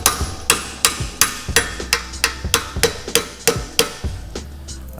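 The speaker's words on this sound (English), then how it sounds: "I just grab my sledgehammer" A sledgehammer pounds a part onto a Porsche 3.0L axle during a rebuild, about fourteen sharp metallic blows in a steady, even rhythm, close and loud with no talking.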